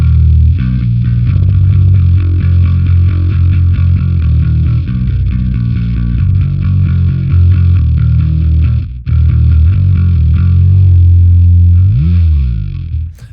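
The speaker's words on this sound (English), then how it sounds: "Change it over to the fuzz." Bass guitar played through a fuzz pedal, loud and close, with thick distorted low notes sustaining in a riff, a brief dropout midway, and a sliding bend near the end; no talking.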